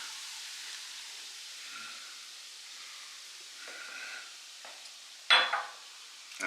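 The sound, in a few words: beer deglazing hot pan with beef bits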